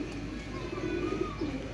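Pigeons coo softly and steadily in a low, continuous murmur, moderately close with faint background hiss and no talking.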